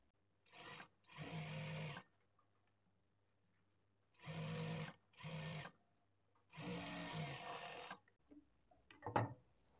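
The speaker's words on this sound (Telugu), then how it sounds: "ఇక్కడ నుంచి స్టార్ట్ చేసుకొని పావించి మార్జిన్‌తో ఒక స్టిచ్ వేసుకోవాలి." A sewing machine stitches a blouse lining in several separate bursts of rapid whirring, each lasting about a second, with quiet gaps between them and a small clatter at the end.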